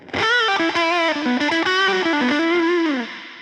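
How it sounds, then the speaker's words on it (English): Distorted electric guitar notes played through a lo-fi, gritty reverb pedal from Buzzing Bugs Audio Devices, the tone crunchy and washy, ringing out and fading at the end. "This is a lo-fi, gritty, gnarly reverb."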